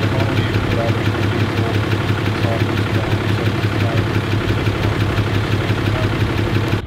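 A Cummins diesel truck idles with its catalytic converter missing from the exhaust. The low, throbbing rumble stays close and loud and keeps a steady rhythm throughout.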